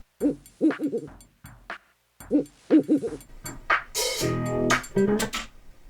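A mixing session where a mellow hooting owl opens the track, with several soft repeated hoots in a slow rhythm near the start, then more hoots followed by louder broadband noise and musical sounds.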